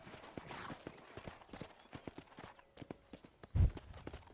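Horse hooves clip-clop in Red Dead Redemption, a run of crisp, fairly close steps at an uneven walking pace with one heavier thud near the end.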